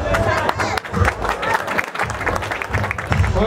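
An audience claps steadily and loudly at a village prize-giving ceremony for a sailboat race, with continuous applause running through and voices mixed into the crowd noise.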